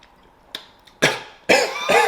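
A person coughs several times, starting with faint throat sounds and building into two or three loud, close, harsh bursts.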